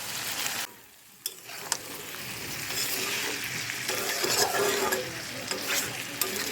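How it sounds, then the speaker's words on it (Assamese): Pumpkin and potato pieces with spices frying and being stirred in a pan while a chicken curry is prepared, a steady loud sizzle broken by sharp scrapes and clinks of the spoon, with no talk. "দি দিছোঁ কোমোৰা আৰু আলু। মছলাখিনি দি দিছোঁ।"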